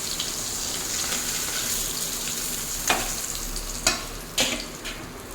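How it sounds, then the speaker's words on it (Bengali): Fish frying in a pan of hot oil for a Bengali pomfret curry, a steady loud sizzle with a few sharp spattering pops near the end, no talk. "আর একটা মাছ আছে, এটাও ভেজে নেব।"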